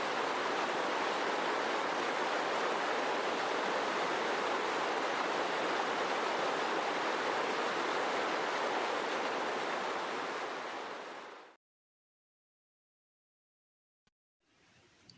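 River water pours past an old water wheel beside thick, weathered walls, a steady, loud, broad rushing wash that holds for about eleven seconds, then cuts off into silence before a faint return at the end.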